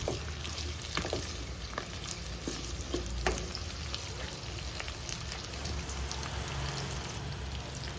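Three or four chopped medium onions fry in a pan for a mushroom curry, with an even, rain-like crackling sizzle and scattered pops close by.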